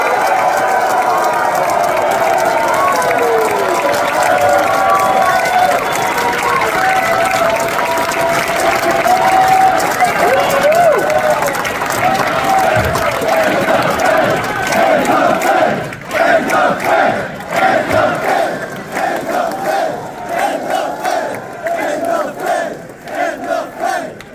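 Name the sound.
audience applauding and cheering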